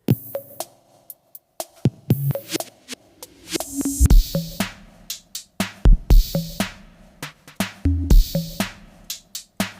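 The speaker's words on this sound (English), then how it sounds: "programming one basic drum beat on the MC-303 through the MIDI from Ableton" A Roland MC-303 drum beat layers three versions of the same loop into a steady, punchy groove of deep kicks, snappy hits and crisp high ticks that repeats in bars with no voices.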